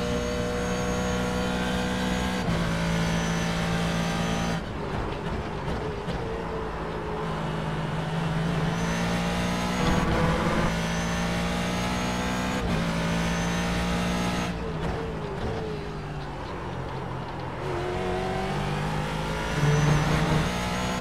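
A Ford GT3 race car circling Road America in iRacing, its engine droning loud and steady with shifting pitch as it climbs and drops through gears, no voices over it.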